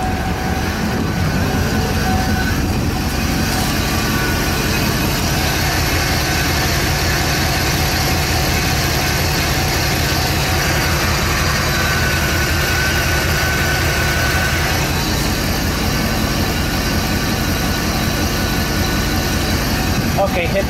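A car engine runs steadily and close by throughout a CV axle and lower ball joint test, a continuous rumbling drone with voices talking over it.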